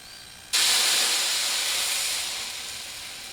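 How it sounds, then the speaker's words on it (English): Water hitting a hot Blackstone 28-inch griddle bursts into a loud, sudden hiss that holds steady, then slowly fades as the water steams away; no talking. "see that water bead up and then disappear, you know it's hot enough to cook on"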